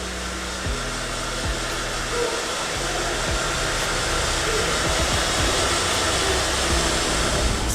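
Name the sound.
hair dryer drying hair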